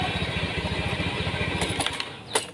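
A motorcycle engine idles steadily after being kick-started, a loud, close, even low throb running throughout with a few clicks and a brief rattle near the end.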